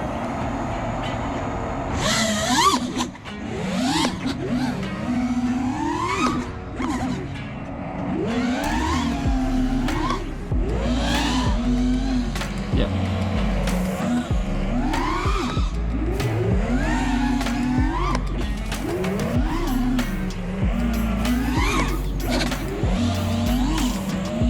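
An FPV freestyle drone on HQ Ethix props flies continuously, its motor whine repeatedly rising and falling in pitch as the throttle is punched and rolled off, loud and close throughout with no talking.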